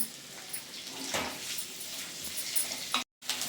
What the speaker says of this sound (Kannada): ಈಗ ಅದಕ್ಕೆ ಹಚ್ಚಿರೋ ಈರುಳ್ಳಿ ಹಾಕೋಣ. ಈಗ ಇದನ್ನ ಚೆನ್ನಾಗಿ ಮಿಕ್ಸ್ ಮಾಡೋಣ.